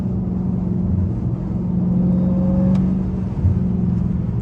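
A Dodge SRT Hellcat's engine drones loud and low from inside the car, a steady powerful rumble with a slight swell near the end and no talking.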